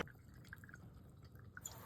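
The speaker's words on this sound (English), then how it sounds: "so pouring the instant hot water, I can see that the tea is covered with water" Instant hot water pours over loose tea leaves in a small personal teapot, giving a quiet, steady trickle with light dripping splashes close to the microphone.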